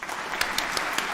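A small group gives a quick burst of clapping, fairly close and sparse, with a few sharper individual claps standing out from the patter.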